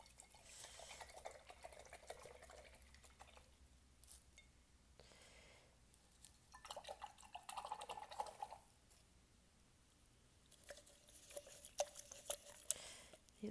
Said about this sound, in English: go ahead and wash off your brush